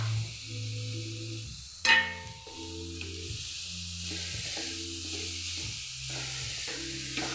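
Jackfruit sautés in a pan for cutlets, giving a faint, steady sizzle with occasional stirring scrapes and one sharp clink, under low tonal background sounds.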